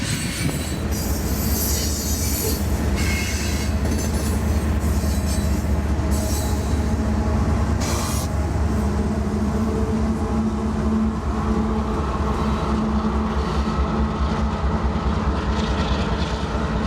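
A freight train with old boxcars rolls past close by, a continuous loud rumble of wheels on rails with squealing metal and rhythmic clatter lasting the whole stretch, no talking.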